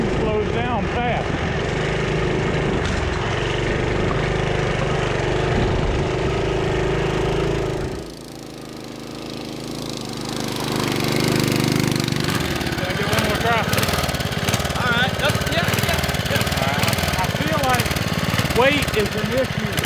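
A small engine on a 1972 Sears Roper mini bike drones loud and close under ride noise and a voice, dipping briefly as the bike slows, then roaring back steadily.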